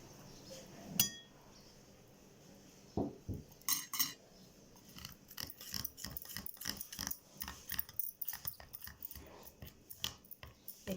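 Gram flour and turmeric for a face pack are mixed in a small bowl, with a spoon tapping and scraping in quick, uneven clinks. The sounds are faint and close, and a few sharper knocks come early on.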